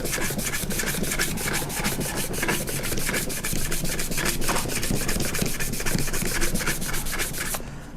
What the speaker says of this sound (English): So a little bit of 320 sandpaper or even 220.